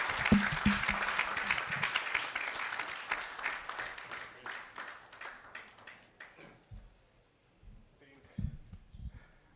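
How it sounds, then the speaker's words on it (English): Audience at a plastic surgery society's annual scientific conference applauding, a loud sustained round of clapping that gradually thins and fades over several seconds, with a few scattered claps and murmurs at the end. "Standing ovation, Dr. Safwat."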